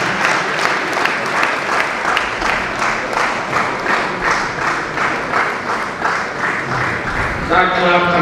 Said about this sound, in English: we put hands together